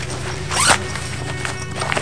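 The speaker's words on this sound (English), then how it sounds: "Really love the zippers" Zipper on an overland tool bag pulled in one quick close stroke, a sharp raspy zip amid quiet handling.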